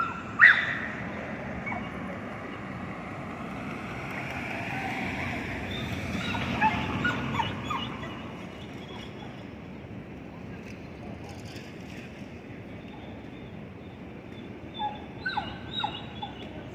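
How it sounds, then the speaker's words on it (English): A dog beside railway tracks where Metro-North trains pass in New York City whimpers and gives a few short barks at moderate distance, over wind rumble and low background noise. "I guess the dog is anxious for the next train to come."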